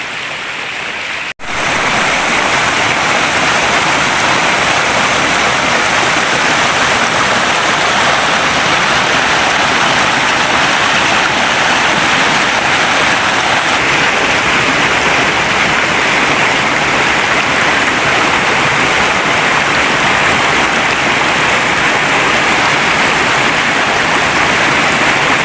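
A flowing stream of fresh, cool water rushes in a close, loud, unbroken wash that holds steady throughout, with no speech.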